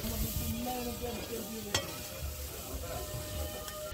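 Cooked prawns coated in turmeric are stirred in a pan, a soft sizzle with scraping stirs and one sharp utensil knock partway through, fairly quiet, with faint voice traces.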